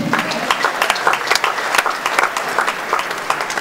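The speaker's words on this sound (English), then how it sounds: "round of applause for Akapi." Audience applause for a comedian at a live event in Nigeria, a dense wash of clapping that rises in scattered bursts and holds steady for a few seconds with no talk over it.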